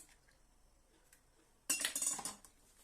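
A utensil briskly clinks against a bowl as salted, peppered eggs are whisked, a quick burst of rattling taps after a near-silent pause.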